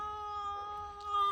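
A house cat gives a drawn-out, tonal meow with a wavering pitch, close and fairly quiet.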